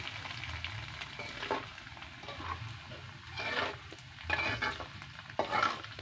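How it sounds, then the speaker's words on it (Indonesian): Dried rice is stirred and fried in a pan, giving a soft steady sizzle punctuated by repeated scraping strokes of the spatula, fairly quiet and close, with no talking. "Goreng sego aking"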